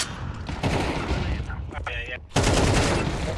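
Rapid bursts of automatic gunfire in a tactical shooter match, loud and close, with a short lull before a fresh volley; a player talks over the shooting.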